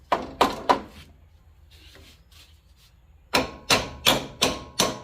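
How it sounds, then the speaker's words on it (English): Metal hammer blows on a part of a Kioti CK2510 hydrostatic tractor's range selection shifter during replacement: three sharp ringing strikes, a pause, then five more evenly spaced, close and loud. "hammer it over slightly as you go in there"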